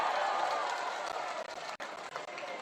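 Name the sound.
audience applause for a speaker at a rally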